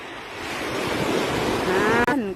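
Ocean waves roll in at the seaside as a steady, loud surf roar, with heavy wind buffeting the microphone throughout and no voices.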